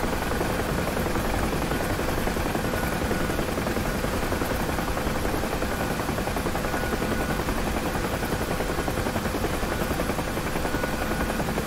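A helicopter in a flight simulator game produces a constant, dense rotor and engine roar that holds steady and loud throughout, with no voices over it.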